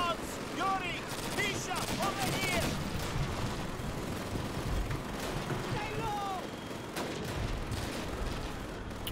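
Sustained machine gun fire from enemy MG nests in Call of Duty: United Offensive, a dense WWII battlefield barrage of rapid bursts, loud and continuous, with shouting voices breaking through the din.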